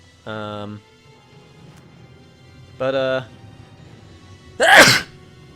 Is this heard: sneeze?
yes